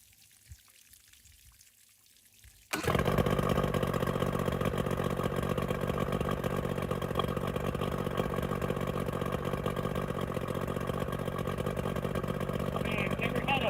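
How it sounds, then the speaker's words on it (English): A Mercury 70 HP boat outboard motor cranks after a short quiet stretch, catches at once and settles into a loud, steady running drone that lasts to the end. "Man, I've never had a boat motor crank up so fast."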